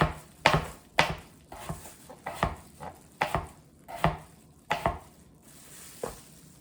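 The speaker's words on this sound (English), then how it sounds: "Okay, so I'm going to finish slicing my potatoes" Knife slicing potatoes flat side down on a cutting board, about a dozen sharp, close chops in an uneven rhythm with brief gaps between strokes.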